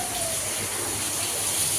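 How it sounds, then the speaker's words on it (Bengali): Rain pours down outdoors during a storm with wind, a steady broadband hiss of falling water, even and continuous with no pauses. "বাইরে কত বৃষ্টি পড়ছে,"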